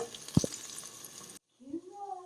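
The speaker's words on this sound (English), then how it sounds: "So I'm just browning up the meatballs." Meatballs for Italian wedding soup browning in a hot pan, a steady close sizzle with a couple of sharp clicks early on, then a brief drop to silence before a voice comes in over the fading sizzle.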